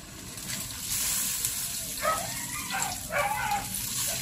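Water is poured a little at a time into a cooking pot of stingray with black beans, making a short, close splashing trickle with a couple of brief bursts.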